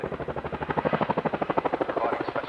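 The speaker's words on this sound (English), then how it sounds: "This is a Chinook HC5, previously known as the HC3" An RAF Chinook HC5 helicopter at the RAF Cosford Air Show 2024 gives a loud, fast, rhythmic rotor thudding that swells through the middle and eases slightly toward the end.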